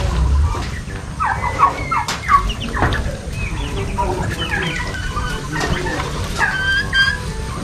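A turkey gobbles and clucks among other fowl on a farm, several bursts of calls close by over a steady outdoor background with no talk.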